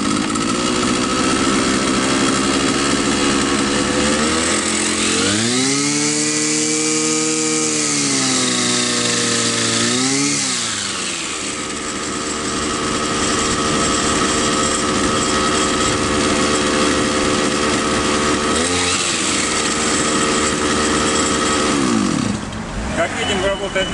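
A Baikal petrol string trimmer with a freshly replaced clutch spring runs close by, its two-stroke engine idling and then revving up and back down a couple of times.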